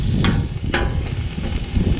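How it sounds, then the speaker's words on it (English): Steady broadband sizzling of flank steak on a hot Camp Chef FTG600 griddle, continuous and close, with a couple of brief sharper crackles. "Get that steak sizzle."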